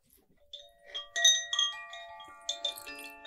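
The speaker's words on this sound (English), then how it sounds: "Lifting your vibration with these Koshi chimes." Koshi chimes ring softly in a quiet room, a cluster of bright, overlapping tones shimmering and decaying, struck in several light gentle bursts.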